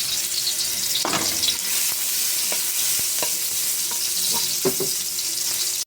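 Garlic sautéing in a pan for Filipino ginisang alamang with vegetables, a loud steady sizzle of frying oil with occasional scraping stir sounds of a utensil against the pan.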